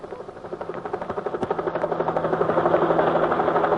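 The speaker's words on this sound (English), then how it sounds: "Overhead, a helicopter windmilled toward the shambles." Helicopter flying overhead, its rotor chop beating in a fast steady rhythm over a continuous engine whine, growing slightly louder as it nears.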